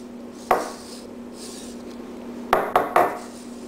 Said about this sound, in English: You can hear it hitting the little stainless steel.